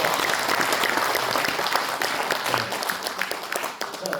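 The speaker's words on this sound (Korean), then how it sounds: "만들고 싶으면 박수!" A crowd applauds during a special lecture on Busan as a world maritime capital, loud dense clapping filling the hall for about four seconds before starting to taper off.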